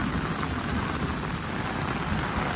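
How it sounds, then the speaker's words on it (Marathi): Heavy monsoon rain pours on a Konkan village as a dense, steady roar of falling water, constant and unbroken from start to finish. "मुसळधार पाऊस पडतोय इकडे"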